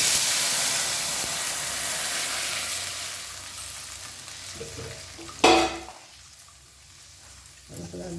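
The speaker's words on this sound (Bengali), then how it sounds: "মাছ ভাজার তেলে দিয়ে দেবো কালো সর্ষে ফোড়ন।" Black mustard seeds, with ground mustard paste added after them, fry in hot oil left over from frying fish. A loud, close sizzle fades to a softer hiss, then a sharp burst of spitting sizzle breaks out when the paste goes in.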